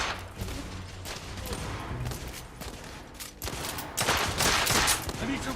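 Sustained gunfire rattles through a firefight in the video game The Order: 1886, bursts of rapid shots layered over rumbling background action, loudest near the end, with a voice speaking briefly.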